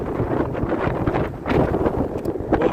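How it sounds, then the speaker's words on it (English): Strong, cold gusting wind on a Manhattan street in 21–22°F weather before a winter storm buffets the microphone, making a loud, continuous rumbling roar that surges in stronger gusts. "It's gonna be windy, so if you hear this constant wind"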